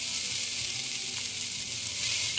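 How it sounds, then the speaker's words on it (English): Beef sizzles steadily as it sears in about four tablespoons of vegetable oil in a stew pot, a continuous close, even frying hiss with no voices. "Okay, and we'll kind of sear these."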